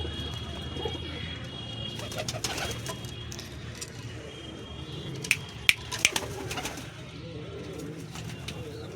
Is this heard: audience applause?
no